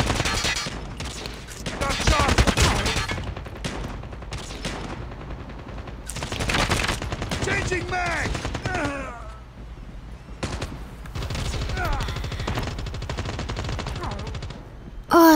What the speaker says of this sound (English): playing a game and shooting people